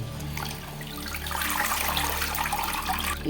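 Pea shoot greens get washed under running water, a steady splashing and gushing that swells slightly midway and stays close and continuous throughout.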